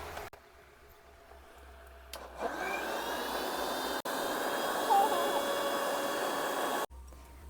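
A blender grinds a raw mango ice cream mixture with a steady loud motor whir that starts up, runs for several seconds, and then cuts off abruptly.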